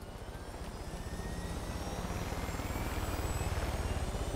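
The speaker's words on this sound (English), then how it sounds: "I'm gonna spawn another helicopter." A helicopter in the video game Far Cry 5 makes a steady rotor thump and engine whine that holds at a constant, moderate level with no talking.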